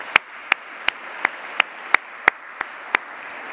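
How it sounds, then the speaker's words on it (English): Sparse, rhythmic clapping at a climate event, with about nine sharp, evenly spaced claps standing out over a faint background murmur rather than a full round of applause. "Please, a round of applause for our funders."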